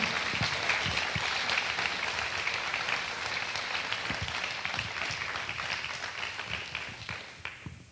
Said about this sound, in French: je vous invite à applaudir toutes les personnes qui sont levées ce soir